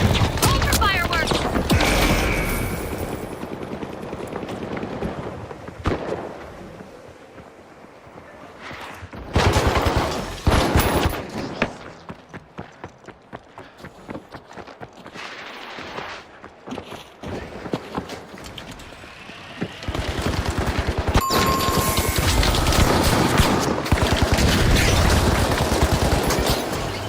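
Fireworks in the video game The Finals crackle and pop in rapid bursts, loud and dense, with heavier volleys near the end over a busy game backdrop.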